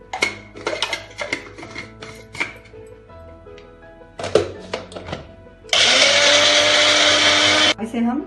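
A kitchen blender grinds garlic, chili and coriander into a paste for Gwarfali and Aloo Bharta. It gives a loud, steady two-second whir after a run of clattering handling knocks.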